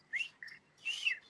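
A person imitates a very quiet, faint whistle, the kind of subtle signal only a Kelpie dog might notice, given as two short, high chirping whistles with a brief gap between them.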